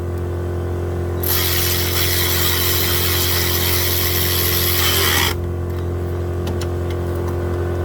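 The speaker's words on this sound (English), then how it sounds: "Just zap them right into place" An air tool runs on the water pump bolts of a 2008 Ford Focus, a loud continuous whirring buzz lasting about four seconds before cutting off, over a steady low hum.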